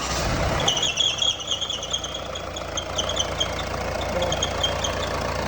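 A Mahindra Bolero Camper engine with a bore problem, damaged by overheating, idles after starting, a steady close mechanical rumble with faint high squealing tones layered over it.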